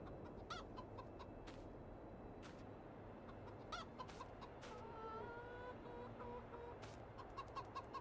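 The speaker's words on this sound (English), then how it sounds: "Sounds like we're getting closer to those chickens." Chickens clucking in a Farming Simulator 22 game, a quiet steady run of short clucks with occasional sharper calls over a soft ambient background, no voices.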